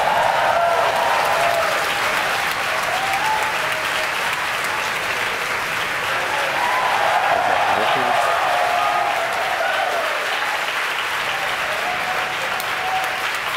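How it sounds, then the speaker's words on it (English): A large crowd at SpaceX headquarters cheers and applauds loudly and without letup during a rocket launch, with whoops and shouts rising and falling throughout. "you can hear it through the cheers of the crowd here at SpaceX headquarters"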